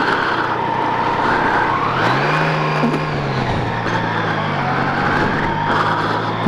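Yamaha Niken three-wheeled motorcycle riding on new tyres, a steady engine drone with wind noise and a pitch rise as it accelerates, close and continuous throughout.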